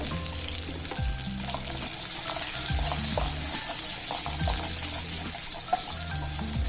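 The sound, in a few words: onion, garlic and ginger frying in a pan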